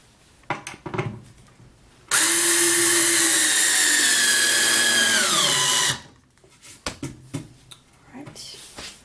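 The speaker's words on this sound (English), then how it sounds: "drill one more right here" A power drill bores a hole into a wooden soap slab mold, a loud whining burst lasting a few seconds whose pitch sags as the bit pushes through. Workshop knocks and handling noises come before and after it.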